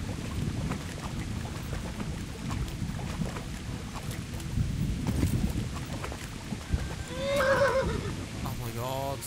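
A horse neighs in Kingdom Come: Deliverance, a short whinny near the end over busy game ambience with hooves and rustling, and someone talks faintly at times.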